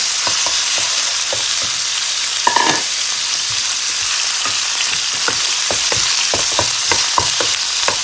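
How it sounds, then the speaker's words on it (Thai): Steady, loud sizzling and crackling of pork stir-frying in a hot oiled pan, with faint scraping and clinks of a utensil throughout. "ผัดหมูรวนหมูให้สุกนะคะ"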